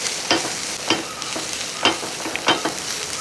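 Turmeric powder stirred through a hot frying pan while making egg thoran, with a steady sizzle broken by about five distinct scraping strokes of the spoon, close and fairly loud.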